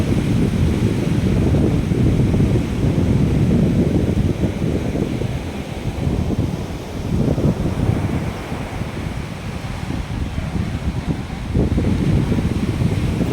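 Sea waves roll in at Cola beach in South Goa under strong gusting wind, a loud rumbling wash that swells and eases in broad surges with no one speaking.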